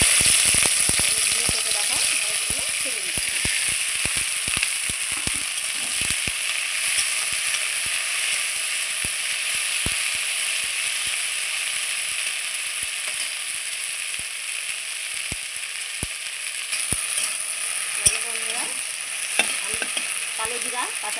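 Onion, green chilli and black cumin fry in a pan with a steady, bright sizzle, broken by frequent sharp scrapes and taps of stirring throughout, close up and without speech.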